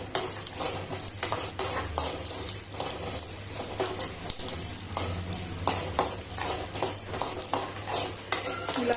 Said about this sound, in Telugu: చెక్క, లవంగాలు, మరాఠీ మొక్క, జాజి పువ్వు, జాపత్రి ఇవన్నీ ఒకేసారి వేయించుకోవాలి.